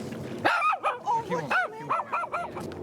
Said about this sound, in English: A little dog stands on the kayak, barking at her.